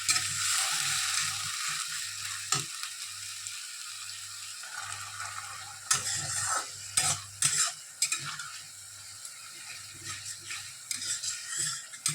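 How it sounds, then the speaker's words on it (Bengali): Ginger paste being stirred into frying onions in a pan for a Bengali kosha mangsho, a steady sizzle with repeated scraping strokes of the spoon, fairly close and with no talking. "এবার আমরা আদা বাটা দিচ্ছি।"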